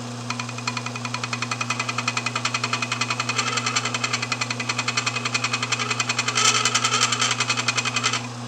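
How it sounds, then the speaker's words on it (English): A belt sharpening machine runs with a steady motor hum and a fast, even clicking each time the belt join passes, close and continuous, growing slightly louder near the end. "You can hear that clicking sound. That's the join in the belt."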